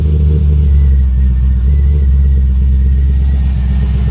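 A Pontiac G8 engine runs steadily after being started following a long sit with a fresh battery, a loud close low rumble with slight revving swells throughout, no talking.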